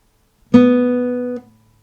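A single plucked string note rings clearly for about a second, then is damped; steady and close, with no talking.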